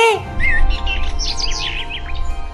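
Small birds chirp and tweet in quick, high, darting calls over a low background rumble, fairly close and lively, with no talking.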